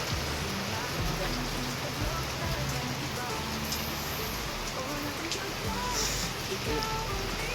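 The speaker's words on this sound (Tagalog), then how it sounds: "Umulan na naman." Steady rain falls continuously as a dense, even hiss, with faint talk mixed underneath throughout.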